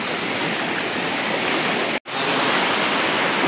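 A river in a Konkan village, where people have gone swimming, rushes loudly and continuously, a dense steady roar of flowing water that cuts out for an instant midway before resuming at full strength.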